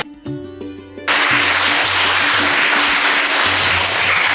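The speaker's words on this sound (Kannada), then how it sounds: "ಅವರಿಗೆ ಒಳ್ಳೆ ಕೈ ಚಪ್ಪಾಳೆ ಮುಖಾಂತರ ನಾವೊಂದು ಬೀಳ್ಕೊಡುವ" An audience at a seminar bursts into loud sustained applause, dense clapping filling the room after a short musical tone sequence at the start.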